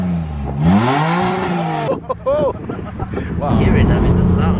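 A BMW M2 engine revs up with a rising, falling growl, loud and close, with people talking over and between the revs.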